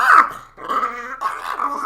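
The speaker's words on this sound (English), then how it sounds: "My dog is literally just like whining and pining." A restless dog whines and growls close by in a run of continuous, strained vocal sounds, with a brief dip before it picks up again, loud and with no talking.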